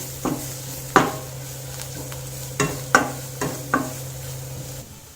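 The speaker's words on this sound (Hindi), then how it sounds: "1 टेबल स्पून आप बेसन डालेंगे और इसे 5 मिनट तक भूनेंगे।" Gram flour being roasted in a pan for paneer masala and stirred with a spoon, producing several sharp scraping clanks against the metal over a soft continuous sizzle and a steady low hum, with no talking.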